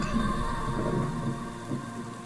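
Steady rain pours down under a low, continuous rumble of thunder, a dense wash of noise with no voices.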